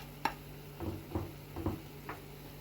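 Sliced onions stirred in a frying pan for a home crepe filling, with a soft sizzle under a sharp tap and several quiet scraping strokes, all faint.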